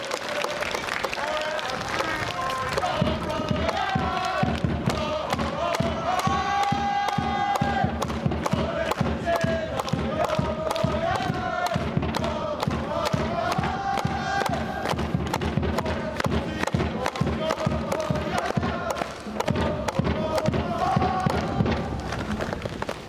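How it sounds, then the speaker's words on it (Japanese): Stadium crowd applauding coach Yokoyama at a season-ending ceremony after Blaublitz Akita's final match, steady dense clapping and cheering sustained throughout, with rhythmic thumps and a loud public-address voice over the top. "横山監督に今一度鮮烈な拍手をお送りください。"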